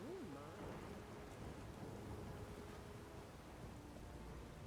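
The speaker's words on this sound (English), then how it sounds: "A storm, damn it." A steady storm in The Witcher 3 game, with rain hissing constantly over deep thunder rumbles, a dense even wash of weather without any voices.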